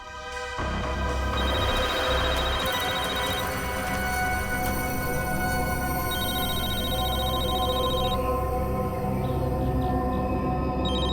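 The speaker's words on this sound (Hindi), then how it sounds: "सर फोन रिंग हो रहा है।" A phone ringing with a steady electronic ringtone, repeating tones sustained over several seconds against a loud, dense background.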